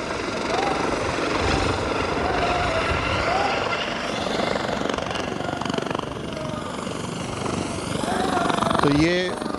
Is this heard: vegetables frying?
no